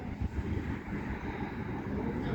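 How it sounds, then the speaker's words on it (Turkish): Strong wind buffeting the microphone outdoors where iron is being loaded, a steady, loud, low roar lasting throughout with no clear talk. "Çok rüzgar var ya patlıyor Asel."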